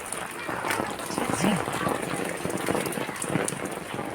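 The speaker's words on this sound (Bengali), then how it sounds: "একটু বৃষ্টিটা হালকা হয়েছে" Light rain falling on a street on the way home from the fish market, a steady broad hiss of drops pattering on surfaces, fairly close and continuous throughout.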